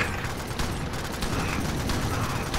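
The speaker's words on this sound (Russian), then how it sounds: "Я в стену стреляю" Rapid gunfire against a wall in the game Alien Swarm, a dense continuous volley of clattering shots with mechanical rattles, loud and close from start to end.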